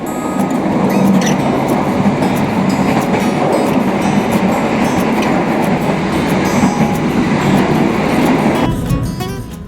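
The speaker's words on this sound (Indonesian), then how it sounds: "Berpapasan dengan kereta api Argo Bromo Anggrek" The Argo Bromo Anggrek passenger train rushes past close by in Indonesia, a loud continuous roar of wheels and rattling carriages that cuts off abruptly near the end.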